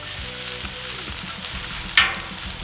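Bacon and onions sizzle steadily on an outdoor grill in cold, wet, windy weather, a constant close frying hiss with a brief sharper crackle near the end.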